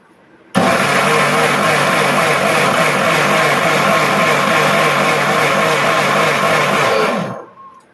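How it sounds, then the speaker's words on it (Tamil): Electric kitchen blender grinding ingredients for a cake batter, a loud steady whirring roar that starts abruptly, runs unbroken for several seconds close by, then winds down and stops. "இப்போ நம்ம இதை வந்து அரைச்சி எடுத்துக்கலாம்"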